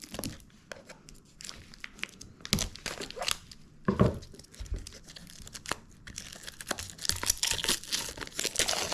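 Hands tearing open a plastic package without scissors, with repeated crinkling, ripping and crumpling bursts of uneven length, close and fairly loud, continuing for several seconds.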